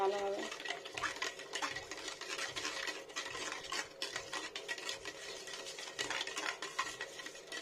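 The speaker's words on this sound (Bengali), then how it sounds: "জল লবণ চিনি দিয়ে একটু ফেটে জল দিয়ে নিতে হবে" Yogurt being beaten with water, salt and sugar for a vegetarian yogurt-eggplant dish, a busy run of scraping and clinking utensil strokes against a bowl, close and fairly steady throughout.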